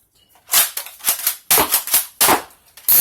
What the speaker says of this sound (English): So I'm going to go through and do some firing here into my my target box